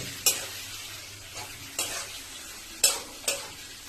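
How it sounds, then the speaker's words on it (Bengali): Eggs frying in a kadai, with a soft steady sizzle broken by four or five sharp spatula scrapes and clinks against the pan, close and fairly quiet. "ডিমগুলো দিলে সুন্দর ভাজা হয়ে যাবে"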